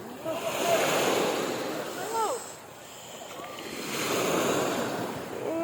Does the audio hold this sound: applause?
no